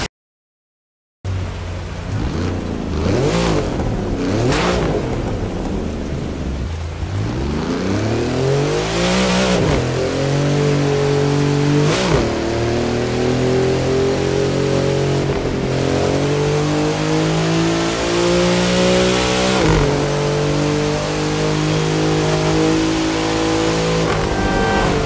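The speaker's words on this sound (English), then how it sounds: "Gentlemen, start your engine." A car engine revs loudly in the racing video game The Crew 2, driven with a Logitech G29 wheel on a route from Miami to Central Park; the engine note rises and falls continuously throughout, with no talking.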